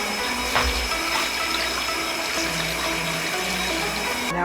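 Water pours steadily into a pot holding a turkey and its neck, a continuous close gushing and splashing that runs the whole time without pause.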